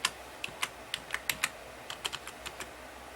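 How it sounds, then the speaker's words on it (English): Quiet, close keystrokes on a computer keyboard as a password is entered during an Ubuntu Linux installation, an irregular run of about fifteen distinct clicks with short pauses, no speech. "Type in the password you want to use."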